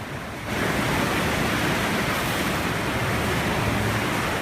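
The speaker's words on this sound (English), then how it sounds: "you could hear the sound of the waves" Ocean waves around Cape Horn roar in a dense, continuous wash of surf that swells up after a brief quieter moment and stays loud throughout.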